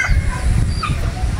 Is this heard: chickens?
yes